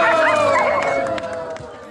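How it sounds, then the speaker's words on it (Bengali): Several dogs give whining, howl-like cries and yelps close by at a Bolivian dog-and-owner race held for the police's 200th anniversary, with a crowd murmuring faintly behind them. "অংশ নেয় শত শত কুকুর আর তাদের মনিবরা"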